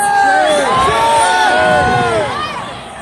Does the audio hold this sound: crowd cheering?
yes